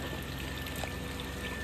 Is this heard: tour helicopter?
no